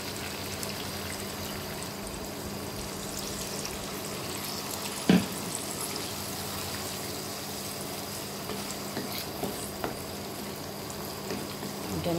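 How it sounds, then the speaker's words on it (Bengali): Water poured into a pan of frying spices for Bengali potol curry, a steady bubbling, sizzling wash with one sharp clink partway through. "এখানে আমি এখন জল দিয়ে দেবো অল্প করে"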